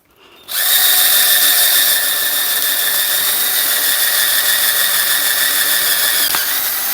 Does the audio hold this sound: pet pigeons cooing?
no